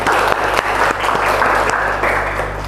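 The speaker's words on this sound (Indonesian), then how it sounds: "kasih aplaus dong buat tim kedua" Classroom applause for a team that has just finished presenting, a dense continuous burst of many hands clapping that lasts throughout with small swells and dips, loud and close.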